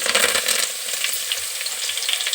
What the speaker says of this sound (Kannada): ಇದು ಬೆಳ್ಳುಳ್ಳಿ ಜಜ್ಜಿ ಇಟ್ಕೊಂಡಿರ್ತೀನಿ ಬೆಳ್ಳುಳ್ಳಿ ಹಾಕೊತೀನಿ